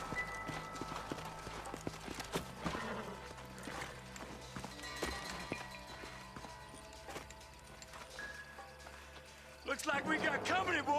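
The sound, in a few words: horses' hooves clip-clopping in a video game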